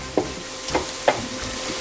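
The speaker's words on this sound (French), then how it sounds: "là ça rissole bien" Smoked bacon lardons from quality Alsatian pork belly brown in a pan, giving a steady sizzle with a few soft stirring knocks, close and moderately loud.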